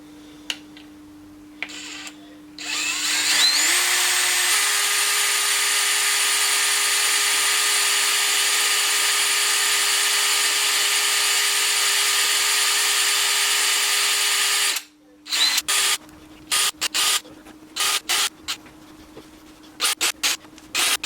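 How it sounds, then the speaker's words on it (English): A step drill bit bores by hand through metal, stepping from 8 to 10 mm, with a steady high whine and grinding rasp held for about twelve seconds, then stopping and restarting in short bursts. "We've gone in one side with the step drill from 8 to 10"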